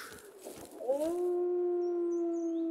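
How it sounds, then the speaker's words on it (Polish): A wolf in the survival game ZERO Sievert howls in one long, steady, sustained note that slides up and then holds, following a few brief scuffling sounds, with no talk over it. "Słyszę tego wilka, ale nie widzę go nigdzie."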